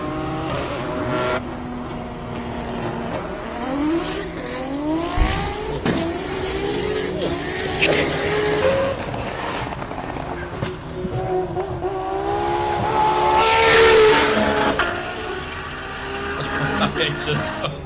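A full space-frame race car styled like a GTR, built in South Africa, at the Simola hillclimb, its engine climbing through rising revs and gear changes, loud and close, with a crowd and commentator voices under it.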